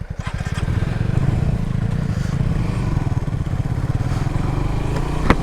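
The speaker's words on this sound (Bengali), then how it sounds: "তো গাইস এখন জিএসএক্সআর রাইড করব।" A Suzuki GSX-R motorcycle ridden along a village road gives off a loud, steady engine drone with fast regular firing pulses and slight clatter, close by throughout.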